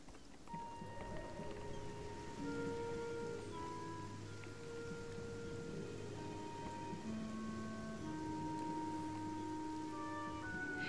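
A rainstorm in the video game Beyond Eyes: steady rain hiss with low rumbling thunder and soft tonal game music layered throughout, constant and moderately quiet.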